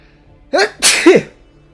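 A single loud sneeze with a sharp intake and explosive burst, close and alone, heard over a quiet real-time strategy game set among sci-fi soldiers battling alien bugs.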